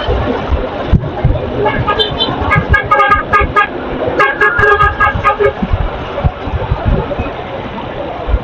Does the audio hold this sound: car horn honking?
yes